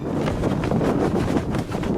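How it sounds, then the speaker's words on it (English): Strong wind buffets the microphone in a constant, rough roar, gusting unevenly for a couple of seconds with no voices. "But today is very windy, which is very, very aggressive."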